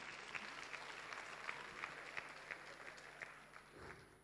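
Warm applause from an awards-ceremony audience at a citizens-of-the-year evening, steady clapping that holds for several seconds and tapers slightly at the end, with no talk over it.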